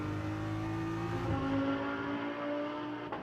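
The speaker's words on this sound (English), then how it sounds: "The other BMW of Sheldon van der Linde in the meantime is barking its way down towards the R-bend." Sheldon van der Linde's BMW GT race car barks along the Macau Grand Prix street circuit toward the R-bend in free practice. Its engine holds a loud, continuous roar with a pitch that shifts midway, then eases slightly at the end.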